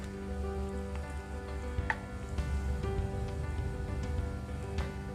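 Mustard seeds and fenugreek seeds roast over a low flame in a pan, giving a steady soft sizzle with scattered faint pops and crackles. Nobody speaks over it.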